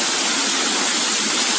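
Zmeikovsky waterfall, a winding snake-shaped cascade heard from above, pours in a steady, loud, unbroken rush of falling water with no voices.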